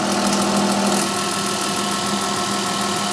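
A 1989 Dodge Ram with a 5.9L Cummins diesel and an upgraded Bosch VE injection pump idles with no boost, a loud, steady, rough clatter that runs continuously with no speech.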